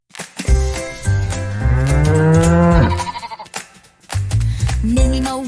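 A cartoon cow in a farm nursery rhyme: one long, loud, drawn-out moo that rises and falls, with shorter bleat-like animal calls before and after.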